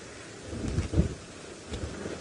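Strong wind buffets an open safari vehicle on a game drive, with gusty, rumbling blasts that swell and fade in a few loud surges.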